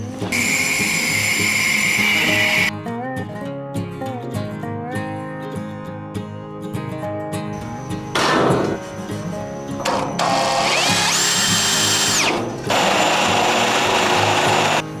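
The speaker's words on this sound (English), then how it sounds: "pick the back up so I can drill those holes." A power drill whines loudly in bursts while drilling holes in metal brackets, its motor pitch rising and falling as it bites into the hard material, with quieter gaps between runs.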